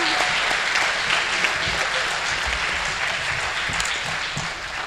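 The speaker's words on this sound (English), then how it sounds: "So please, a round of applause for Miss Allison Rogers" A school honors-ceremony audience gives a round of applause for an honoree, a dense, loud, continuous wash of many hands clapping that stays even throughout before easing slightly at the close.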